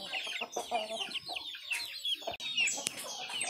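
Young chickens and pullets cluck and peep in quick, chattering bursts, close by and overlapping with one another.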